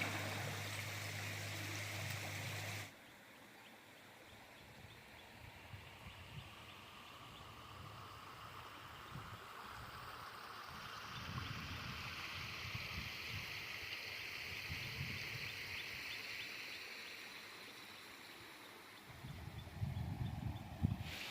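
Fish are washed in a river stream, with water running and trickling steadily and occasional splashes and sloshes close by, outdoors and without talk.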